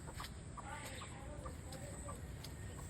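Several hens cluck together outdoors in a rural setting, soft repeated calls overlapping at close range above a steady background hiss.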